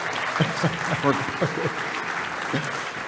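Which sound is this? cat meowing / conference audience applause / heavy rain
conference audience applause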